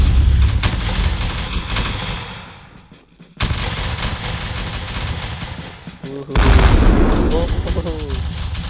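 Booming cannon blasts and crackling line-infantry gunfire roll through a video game battle, with bursts rising and fading and a voice faintly underneath.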